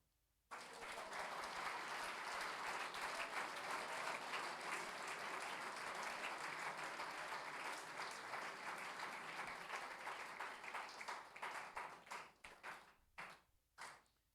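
A church congregation breaks into applause, starting abruptly and sustaining a dense wash of clapping for about eleven seconds before thinning into scattered last claps and falling quiet.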